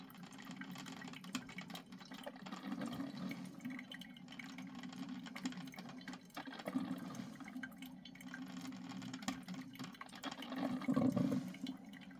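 An electric coffee maker brews 1939 Hills Bros coffee with a low, steady gurgling hum and bubbling water that grows louder near the end, quiet and close, with no speech.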